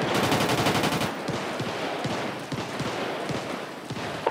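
Rapid bursts of automatic gunfire in a GTA roleplay police raid on a favela, loud sharp volleys at first, then scattered single shots continuing without talk.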